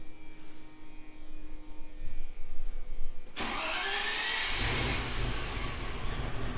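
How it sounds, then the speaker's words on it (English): A 3.9 EFI Rover V8 cranks briefly, then catches and settles into a loud, steady idle with a broad rumble, close by. "That sweet, sweet V8 sound."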